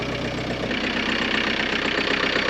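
A turbo diesel Volkswagen Vanagon Westfalia engine idling, a steady, loud, close rumble with an even pulsing clatter throughout and no talking.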